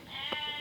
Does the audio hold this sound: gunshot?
no